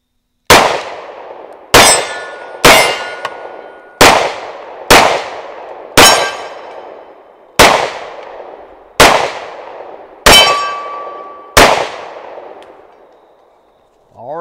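Ten sharp pistol shots from a Tisas 1911 Stingray, each followed by a ringing metallic clang off steel targets, fired in an uneven rhythm at close range and loud, every report decaying into a bright ring.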